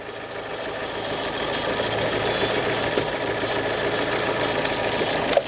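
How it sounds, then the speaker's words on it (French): A car engine running after the battery was reconnected, idling steadily with a constant mid-pitched hum and slight vibration, close and alone, rising briefly near the end. "Comme vous voyez, le moteur démarre."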